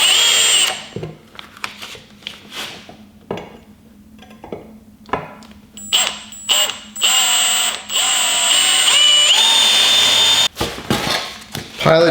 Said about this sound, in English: Pilot drill bit was successful.